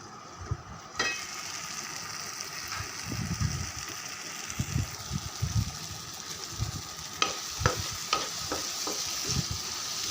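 Okra pieces and chopped tomato cooking down in a pan on the stove, a steady soft sizzle with occasional stirring scrapes and light clinks throughout.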